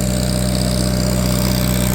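Tractor engine running steadily under load on a dynamometer, a constant loud low drone with a steady throbbing hum and no talk, held at the same level throughout.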